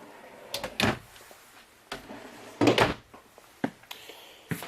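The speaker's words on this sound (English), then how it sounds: "Full extending ball bearing drawer guides." A full-extension ball-bearing drawer in the kitchen island of a 2018 Big Country 3850MB fifth-wheel RV is opened and shut several times, giving close, sharp rolling slides and thuds with short pauses between.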